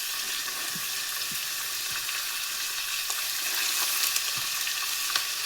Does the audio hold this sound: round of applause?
no